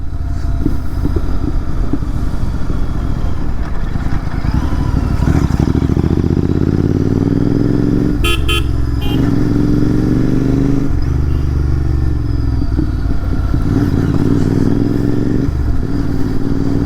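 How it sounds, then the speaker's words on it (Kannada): A Royal Enfield Continental GT 650 twin-cylinder motorcycle engine thrums steadily and loudly nearby, its low rumble rising and falling with a brief rattling clatter midway, no voices. "ಇದರಷ್ಟು ಬೆಸ್ಟ್ ಟ್ವಿನ್ ಸಿಲಿಂಡರ್ ಸೌಂಡು ಯಾವ ಗಾಡಿನೂ ಕೊಡಲ್ಲ"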